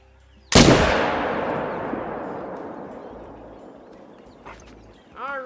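A single loud gunshot cracks in a hunting video game, then trails off in a long, fading echo; a faint voice comes in near the end.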